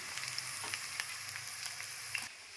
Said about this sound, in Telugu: ఇప్పుడు మనం కట్ చేసుకున్న దొండకాయలు వేస్తున్నాను